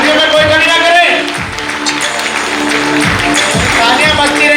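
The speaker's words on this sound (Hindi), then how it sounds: "तालियां बजती रहनी चाहिए कुछ देर तक, जब तक सर स्टेज को हैंड ओवर ना हो जाए।" Audience applause rises for a speaker coming on stage at a Hindi-language event. The clapping is dense and continuous, with a loud voice amplified over it and rhythmic thumps underneath.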